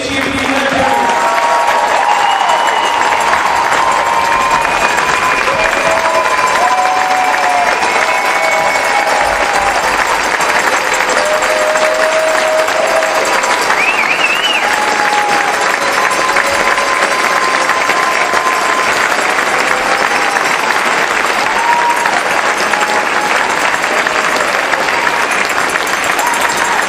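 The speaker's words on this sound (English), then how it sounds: "How about another round of applause for our state champion Redbirds?" Crowd at a community celebration for the Class 3-A state champion Metamora Redbirds applauding and cheering, a loud, sustained wave of clapping with scattered whoops and shouts running unbroken for nearly half a minute.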